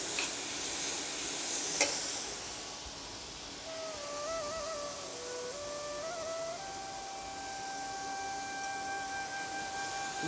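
Vegetables for a vegetable cutlet sizzle and are stirred in a pan, a soft steady frying hiss with one sharp clink near the start and a faint electronic tone wavering over the later part.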